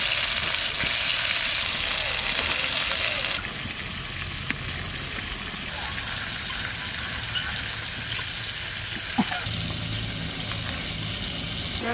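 Pieces of magur catfish fry in hot oil while cooking village style, giving a steady, close hiss of sizzling with scattered small pops and no talking.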